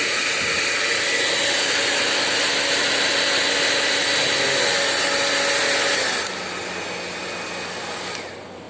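A hair dryer runs as a load on a monitoring and switching system, with a loud, steady broadband whoosh for about six seconds before it drops to a quieter, lower hum.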